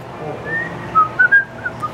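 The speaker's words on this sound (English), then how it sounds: "I think you intimidate me with your loud whistle." Loud human whistling, a thin wavering tone rising into several sharp bright bursts near the end, alone with no talking.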